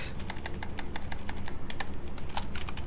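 Rapid, steady typing on a computer keyboard, a dense run of close, crisp key clicks with a few sharper taps, heard alone with no talk.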